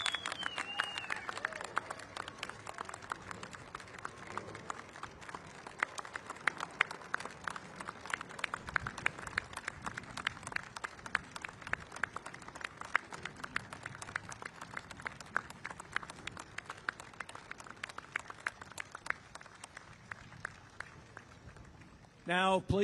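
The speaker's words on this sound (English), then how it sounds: "One more round of applause for all our World War II veterans." An outdoor audience at the V-J Day commemoration at the National World War II Memorial applauds the World War II veterans with a long run of steady, moderately distant clapping that fades out near the end.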